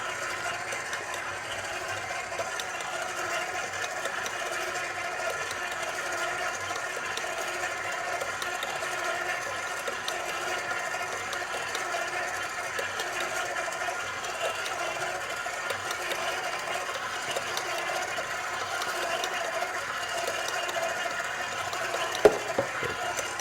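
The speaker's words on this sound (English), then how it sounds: "the mixer is only going to be about incorporating the ingredients" A stand mixer kneading ciabatta dough with olive oil, giving a constant close mechanical whir and rattling hum that runs steadily, with no speech.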